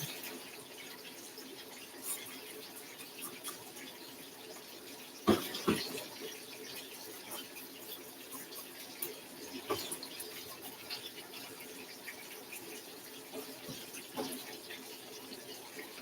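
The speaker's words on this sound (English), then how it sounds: "I'm kind of washing off the gloves before I take it off." Water runs steadily from a kitchen sink tap as gloved hands are rinsed off, a soft continuous wash with a few scattered knocks and splashes, no talking.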